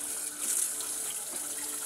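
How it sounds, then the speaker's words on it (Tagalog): Water poured steadily in a short continuous splash while children play at cooking, a soft, even gush with no voices over it. "Lagyan natin tubig."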